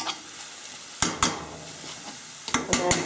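Mushrooms fry in a frying pan with a soft steady sizzle, broken by a few sharp clinks and scrapes of a utensil against the pan.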